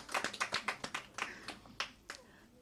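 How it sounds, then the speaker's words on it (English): Quiet, scattered clapping from a small audience at a National Librarian Day library celebration, a handful of distinct claps that thin out and fade. "Give her another round of applause."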